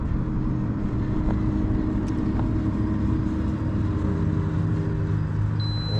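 A Mitsubishi Zero RC model plane, 1100mm span, with its motor held at full throttle, giving a steady droning whine that holds for several seconds at a fairly constant level, heard from a distance outdoors.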